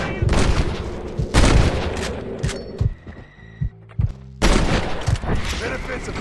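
Gunfire in the Western video game Red Dead Redemption: several bursts of rapid shots over about six seconds, loud and close, with lighter intermittent cracks and a quieter lull in between.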